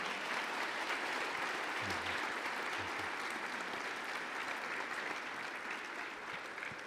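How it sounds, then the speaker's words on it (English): A large audience of students and faculty claps steadily at a Yom Hashoah remembrance event, a dense, continuous round of applause filling the hall at even volume throughout. "Let's give Mr. Martyr a round of applause."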